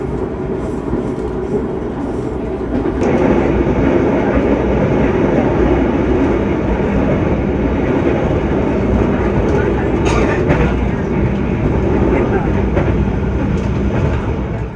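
The Taksaka passenger train runs along the rails with a loud, continuous rumble and rattling wheel clatter heard from on board, growing heavier after a few seconds, with a brief squeal midway.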